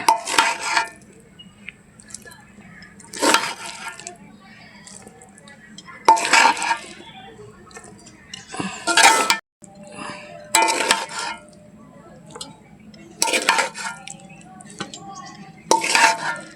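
Chicken and vegetable curry scooped from a large frying pan into a bowl, heard as a regular series of loud scraping, clinking ladle strokes roughly every few seconds, close up, with quiet gaps between.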